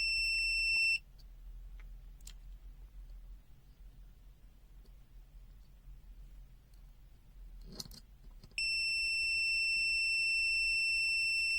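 A BSIDE U1 mini clamp multimeter gives a steady high-pitched continuity beep during a resistance test, sounding for about a second, stopping, then starting again and holding continuously near the end, close and clear in a quiet room.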